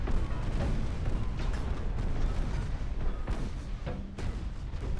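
Naval gunfire from warships in Ultimate Admiral: Dreadnoughts, a dense, continuous rumble of heavy cannon booms and distant impacts, with several louder blasts breaking through the roar.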